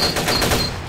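Rapid gunfire in the Rush Team video game crackles densely through a short, steady burst, loud and continuous with no voices over it.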